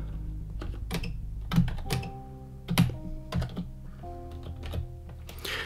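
Computer keyboard typing while code is written, scattered clusters of clicks and key thunks with short pauses between bursts, close and fairly quiet.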